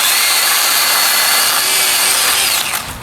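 A Ryobi cordless pruner cuts through a tree branch with a loud, steady motorized whine and rasping bite that holds for nearly three seconds before tapering off as the cut finishes.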